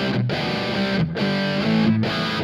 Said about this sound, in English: let's try humbuckers. So this is my PureSalem Guitars Cardinal.